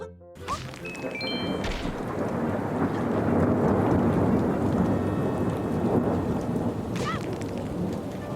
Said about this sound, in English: There we go, the thunder's coming in loud.